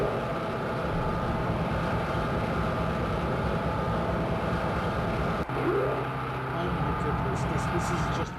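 A Napier-engined express train runs through East Anglia in the Open Rails simulator, giving a steady, continuous droning rumble with no break in its level.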